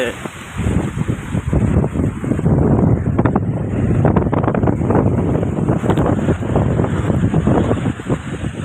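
Strong cyclone wind at Machilipatnam beach roars loudly and continuously into the microphone, with sea waves and light drizzle mixed into the rumble and a person talking underneath.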